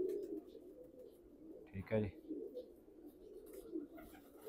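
A domestic pigeon coos softly in a loft, low throaty murmurs recurring quietly throughout, with a short spoken phrase cutting in midway.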